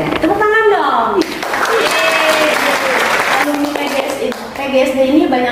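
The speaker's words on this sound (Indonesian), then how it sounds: "Oke, tepuk tangan dong!" Audience applause at a university study-program event, dense clapping filling the room alongside cheering voices and speech, steady and fairly loud throughout.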